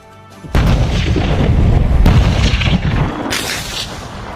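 Heavy, booming tank cannon fire in a video game battle, loud and continuous with rolling blasts and crackle.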